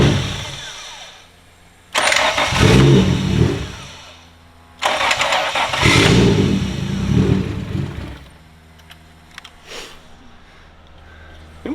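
Two attempts to crank and start an engine salvaged from a forgotten car, each a loud burst of churning engine noise lasting a few seconds before cutting out, with quieter gaps between.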